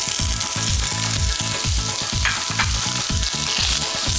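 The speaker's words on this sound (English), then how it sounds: "Sauteing these onions." Onions sautéing in a pan make a steady, loud sizzle and fry that runs unbroken, with faint regular scraping and stirring strokes beneath it and no voices.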